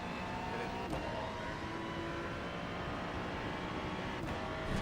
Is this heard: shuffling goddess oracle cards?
no